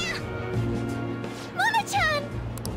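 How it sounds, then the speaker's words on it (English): Morgana, the cat character in the video game Persona 5, lets out two short rising and falling meows close up, with a faint steady background tone underneath. "Goddamn cat!"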